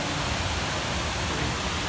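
A waterfall in Costa Rica sends out a dense, steady rush of broadband water noise that fills the scene evenly and loudly, with no talking.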